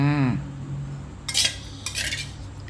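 Snail curry with chaphlu leaves is scooped onto a plate with a metal spoon, making a few sharp clinks and scrapes against the dish after a brief voice at the start.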